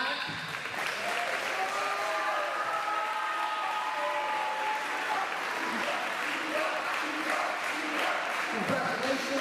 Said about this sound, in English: we'll give a round of applause anyways to Eli Black